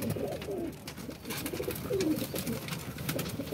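Soft, repeated pigeon cooing with low burbling calls from a loft of pigeons, fairly close, over a light background hiss.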